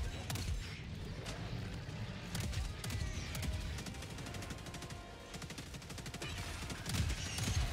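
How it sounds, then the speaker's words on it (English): Rapid, heavy autocannon fire from Helldivers 2 gameplay, a dense run of booming shots that barely pauses, loud and close throughout with a brief lull near the middle. "auto cannon, just start obliterating them"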